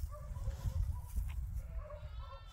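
A goat on a farm bleats in several short, wavering calls over a low, busy barnyard rumble.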